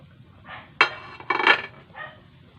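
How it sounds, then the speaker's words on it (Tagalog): A fried salmon head goes into a pot of miso sinigang with a few close, short clinks and clatters of cookware, two sharper knocks standing out among softer taps. "ilagay na natin ang prinitong ulo ng salmon"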